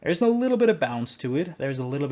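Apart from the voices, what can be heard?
No everyday noises stand out.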